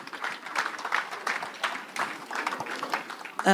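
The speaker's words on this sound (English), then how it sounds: "Let's give them a round of applause." A crowd claps in sustained applause, many hands beating irregularly at moderate distance, with a faint voice near the end.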